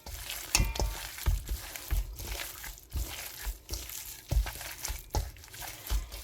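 Warm mashed potatoes, cheese and onions are squished together by hand for pierogi filling, making a series of soft, wet squelches and sticky crinkles in an irregular, repeated rhythm.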